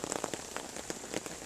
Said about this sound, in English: There's rain on the tarpaulin.